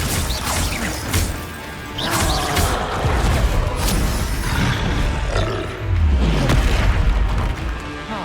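Confringo blasting spell explosions in Hogwarts Legacy, a string of loud booming blasts and crashing impacts with roaring rumble, repeated several times over a busy game battle.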